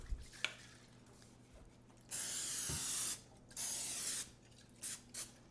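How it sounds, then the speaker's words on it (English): Cooking spray hisses onto the edges of a 13 by 9 inch baking pan in two longer bursts and a couple of short final spritzes, close and clear against faint clicks and handling noise. "I'm going to lightly spray mainly around the edges of a 13 by 9 inch"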